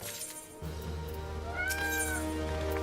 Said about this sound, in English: I hear kitty cat